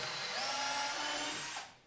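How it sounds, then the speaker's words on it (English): A power drill bores holes in wood while an 8 ft workbench is built. One sustained, loud, close whine rises slightly in pitch, then cuts off sharply near the end. "I'm drilling holes"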